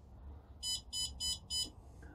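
A heat-treatment furnace controller alarm gives four evenly spaced electronic beeps in a steady rhythm, fairly faint, over a low background hum, with no talking.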